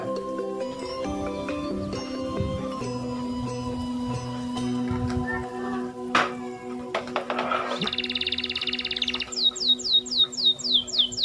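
Canaries in a breeding setup chirp in bright, rapid trills, with a cluster of loud repeated chirps toward the end over steady background hum and clutter.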